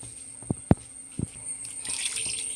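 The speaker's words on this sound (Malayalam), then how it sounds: "അല്പം വെള്ളം കൂടെ ചേർത്ത് കൊടുക്കാം." Water poured into a pot of roasted-coconut rooster chicken curry with ground masala: a few soft splashes and drips, then a brief hissing pour near the end, fairly quiet.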